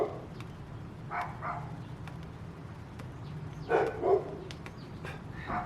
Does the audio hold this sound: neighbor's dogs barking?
yes